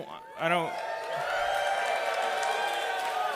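A live comedy podcast audience at the Chicago Improv Festival cheers and whoops in a sustained, moderately loud wash of crowd noise, following a short vocal burst at the start.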